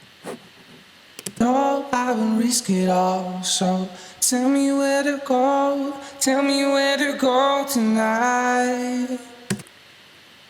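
Female pop vocal from a remix break, doubled by a vocoder, sung in phrased lines with short pauses between them, loud and close over sparse backing.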